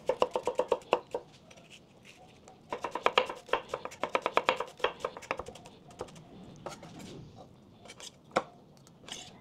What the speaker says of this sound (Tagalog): So, magkakat lang tayo ng sibuyas.